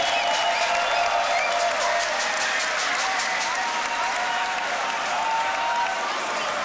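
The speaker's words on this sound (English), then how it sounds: "Give it up for the battle." Loud, sustained applause and cheering from a crowd at a beatbox battle event, a dense wash of clapping that fills the whole stretch without a break.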